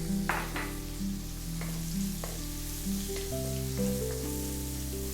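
Garlic frying in a hot pan for Filipino pork humba, a continuous close sizzle with light stirring clicks and a steady hum underneath, no voices.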